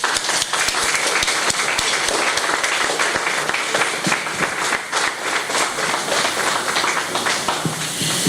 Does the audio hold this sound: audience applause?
yes